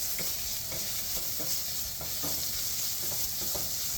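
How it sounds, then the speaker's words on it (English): Garlic and onions sizzling in a pan for a seared halibut dish, a dense continuous frying hiss with soft stirring scrapes at a steady close level, no voices. "Then we're gonna add our garlic at this time."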